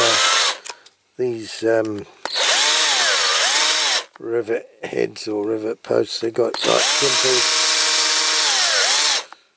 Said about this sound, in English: Okay then, let's get this Bentley apart. I'll go straight in with a big drill bit